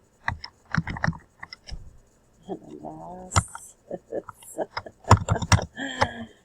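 A computer keyboard gives off short bursts of crisp key clicks, close by and fairly quiet, between spoken instructions from a nearby voice.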